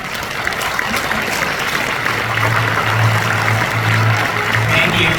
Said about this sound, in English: Let's give another big round of applause for Chairman Lee for his inspiring congratul